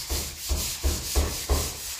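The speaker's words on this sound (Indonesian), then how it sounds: "Jadi habis kompon itu tidak gosok basah, tapi gosok kering." Joint compound on a gypsum ceiling is sanded dry in five even, rhythmic scraping strokes, close up and fairly soft, with no voices.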